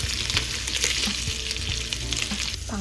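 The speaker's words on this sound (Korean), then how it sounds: "완전 지글지글." Food frying hard in a hot pan with basil cheese, a dense continuous sizzle with crackling pops, close and steady with no talk.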